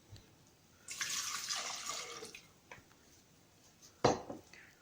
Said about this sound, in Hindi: उसे हम लोग ब्लेंडर में डाल देंगे।